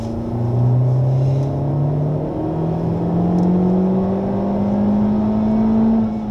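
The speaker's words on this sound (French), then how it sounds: "Allez, vas-y, on accélère." A Honda Civic Type R accelerates on the Le Mans track, its engine note climbing steadily through the revs with a smooth rising drone and a whirring overtone, loud and continuous with no talk.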